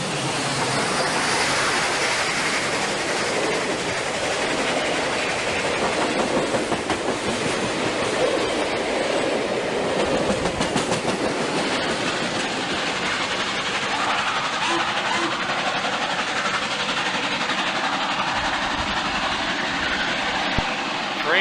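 A steam locomotive, ATSF 2197, rolls past on the rails with a continuous roar and rhythmic wheel clatter, loud and steady, the noise thinning slightly toward the end.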